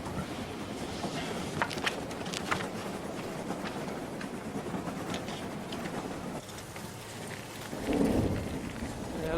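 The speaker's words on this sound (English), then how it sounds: "It looks like a storm." A thunderstorm with steady heavy rain hisses throughout, with a low rumble of thunder swelling near the end, continuous and enveloping with no talk.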